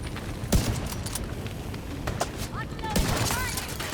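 Gunfire in the video game The Division 2, with scattered sharp shots and short bursts popping over a busy background of game ambience, while people talk quietly over it.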